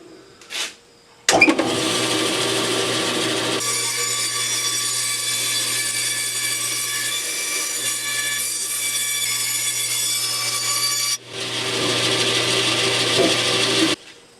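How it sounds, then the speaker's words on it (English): A bandsaw with a blade too narrow for the job cuts a wooden breasthook for an 18-foot sailboat. The whining cut runs long and steady near the microphone, then a second pass starts after a short pause. "my bandsaw blade was flexing a little bit because I have too narrow a blade"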